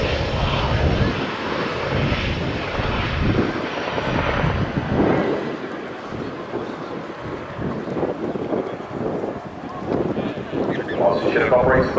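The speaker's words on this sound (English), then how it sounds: "Chinook operates above." An RAF Chinook helicopter flies overhead during a role demonstration display at RIAT 2024, its loud, continuous rotor and engine roar swelling and fading with gusty wind noise across the whole stretch.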